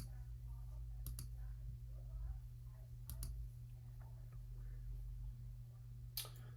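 Computer mouse clicks on a desktop while booking a reservation online: a few sharp, isolated clicks spaced seconds apart over a steady low hum, with faint background murmur.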